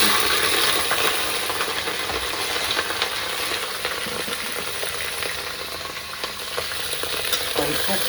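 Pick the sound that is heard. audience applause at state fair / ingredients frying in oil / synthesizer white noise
ingredients frying in oil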